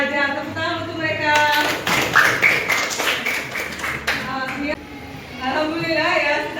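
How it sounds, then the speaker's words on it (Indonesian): A classroom of children claps briefly in a patter of small hands, mixed with chatter and a teacher's voice. "Tepuk tangan untuk mereka."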